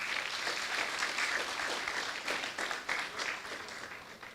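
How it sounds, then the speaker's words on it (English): Faint, distant applause from an audience at a graduation ceremony, a dense wash of clapping that rises and dips briefly without voices on top. "Please give them a round of applause."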